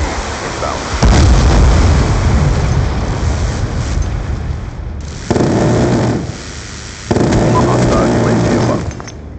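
Lightning Strike airstrikes from a killstreak in a first-person shooter boom in three heavy, rumbling blasts, each starting abruptly and rolling on for a second or two, loud and close.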